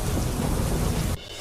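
Heavy pre-monsoon downpour with thunder over Ahmedabad streets, a dense, steady roar of rain with rumbling thunder that holds loud and even, then cuts away abruptly near the end, leaving a quieter hiss.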